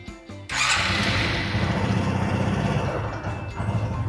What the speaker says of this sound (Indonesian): membuang tekanan sisa yang ada di jalur dengan cara menghidupkan mesin